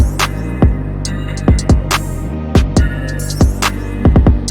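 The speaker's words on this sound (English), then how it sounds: "Then we added a snare." Dark trap beat built in FL Studio 21 with a snare newly added, punching out heavy booming bass hits and sharp snare cracks in a steady loop over a sustained droning bed, loud and alone with no voices.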